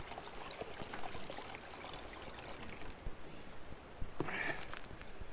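Water trickles and splashes into a jug at a beach survival camp, a soft continuous dribble with a slightly louder gush near the end, fairly close and steady with no talking.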